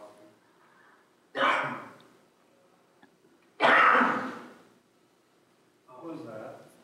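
A person coughs in three separate bursts, harsh and fairly close, with quiet pauses between them, inside the Governor Hill Mansion during a paranormal investigation.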